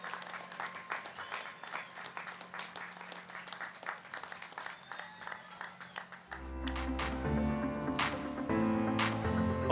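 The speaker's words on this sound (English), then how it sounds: "Can we give a round of applause?" A graduation audience breaks into applause, a broad wash of many hands clapping that swells and grows fuller partway through, fairly distant in a large hall, with a few louder close claps standing out.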